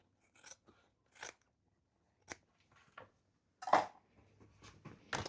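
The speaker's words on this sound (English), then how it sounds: "You're just going to trim that up." Scissors snip through excess fabric on a custom white croc double bag, several separate crisp cuts spaced irregularly, close and fairly quiet with silence between.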